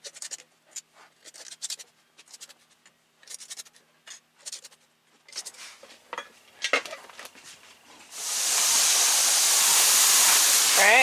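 Pressure canners vent steam while meat is being canned, with a loud, steady hiss that starts abruptly and continues alone. Intermittent scraping and clinking from handling lids and jars comes before it.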